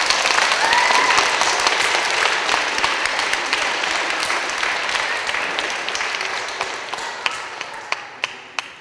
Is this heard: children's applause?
yes